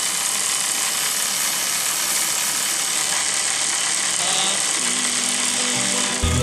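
A simple battery-powered bike motor runs flat out at full throttle, a loud, steady whining buzz held close for several seconds without letting up.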